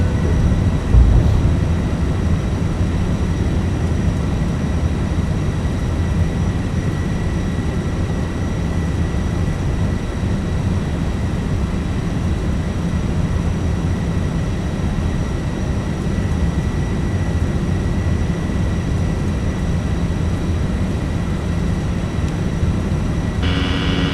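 MD-11F freighter jet engines roaring through rotation and climb-out in a flight simulator, a loud continuous low rumble with a steady whine, sustained evenly for the whole stretch.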